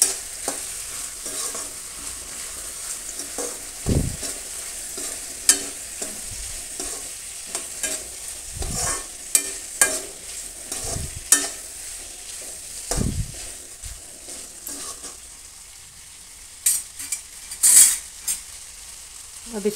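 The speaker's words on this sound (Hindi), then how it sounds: "अब इसको हम मिक्स करेंगे अच्छे से।" Spices being stirred into a moong and moth bean curry in a pan, with a soft steady sizzle broken by repeated spoon scrapes and clatters at uneven intervals, heard alone without talk.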